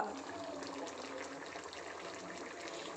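A pot of chicken gravy bubbles and simmers on the stove, a continuous, soft, gurgling wash of liquid at close range with no talk over it.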